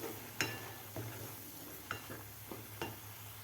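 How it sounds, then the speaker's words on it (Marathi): Dry spice masala sautéing in a pan for a Maharashtrian tomato amti, with a soft steady sizzle under several sharp metallic clinks of a spoon scraping and stirring against the pan. "आता व्यवस्थित आपल्याला 1 मिनिटभर हे परतून घ्यायचं आहे सुके मसाले घातल्यानंतर"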